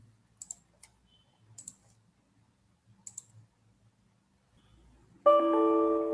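Sharp mouse clicks come in three small bursts in a quiet room as a remote desktop session to an Azure virtual machine is opened, followed by a sustained electronic tone.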